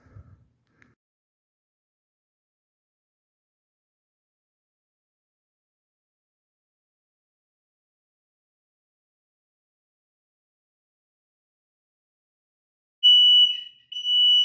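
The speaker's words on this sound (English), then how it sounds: "that is the fire alarm here in this building." A building's fire alarm rings out loud and steady near the end, after a long stretch of near silence with only a faint bump at the start.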